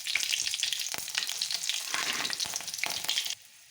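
Cumin and mustard seeds splutter in hot oil, a dense crackling sizzle with sharp pops scattered throughout, close and steady until it drops away abruptly near the end.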